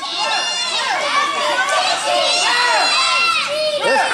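A wrestling event crowd yelling and shouting at the action in the ring, a loud sustained roar of many overlapping voices with individual shouts rising above it, heard close and continuous.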